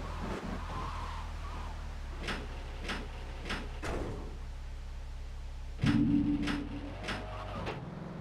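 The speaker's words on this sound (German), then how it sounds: "Ich repariere eben mal kurz das Auto." A car repaired in the video game GTA 3 Remastered: a string of sharp mechanical clicks and knocks over a low engine hum, then a brief buzzing whir and a few more clicks, with no talk.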